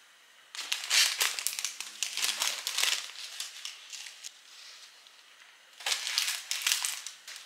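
A small gift sachet is wrapped and tied with ribbon, making close, crisp crinkling and rustling in irregular bursts, with a quieter stretch in the middle before a final flurry of crinkles.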